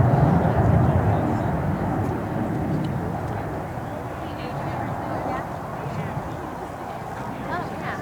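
A B-1B Lancer bomber flies in to land at an air show with gear and flaps down, its deep jet roar broad and steady throughout while an announcer talks over it.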